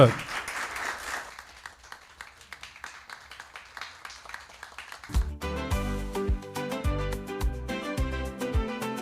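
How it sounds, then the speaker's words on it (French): Applause from a school quiz-competition audience after two lycées' teams are announced, a dense patter of clapping for about five seconds that gives way abruptly to loud music with a steady beat. "On les applaudit."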